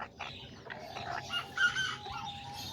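Small Azteca kikiriki chickens and white hens cluck softly in a short, faint burst of scattered, overlapping calls outdoors.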